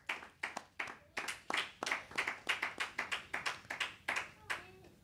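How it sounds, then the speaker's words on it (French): In a church service, the congregation claps in scattered, uneven hand claps, about twenty sharp strikes over a few seconds, fairly close, with a short voice near the end. "Est-ce qu'on peut acclamer?"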